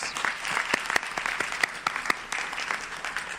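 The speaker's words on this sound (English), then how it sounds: "Let's give our panelists a round of applause." Audience applause for a panel of speakers at an event on North Carolina HBCUs: a full, steady round of clapping from a crowd, with sharp individual claps standing out, lasting the whole stretch without talk.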